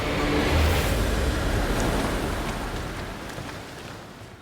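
Endless ocean waves from a sailing trip wreck, heard as a dense, roaring wash of surf and water that stays loud and full throughout, easing slightly toward the end.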